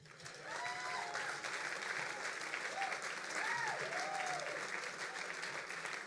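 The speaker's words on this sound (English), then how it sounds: "So now you can applaud all 4 of them." Applause from a dinner audience at an awards gala as four civic honorees are recognized; a full, steady round of clapping continues throughout, with a few faint whoops and voices rising above it.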